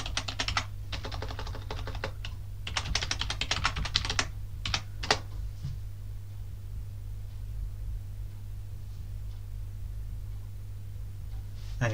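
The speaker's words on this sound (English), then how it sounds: "I can type in my password." Password keys tapped on a computer keyboard at a Raspberry Pi login screen, rapid clustered clicks in short bursts over the first five seconds, then quiet with a steady low hum.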